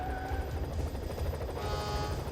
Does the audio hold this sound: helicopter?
yes